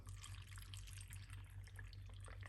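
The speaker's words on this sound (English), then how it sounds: "Now we are going to put in some water." Water runs into a container for a homemade juice with no added sugar, a steady close splashing pour with small bubbling drips, continuous and alone for a couple of seconds.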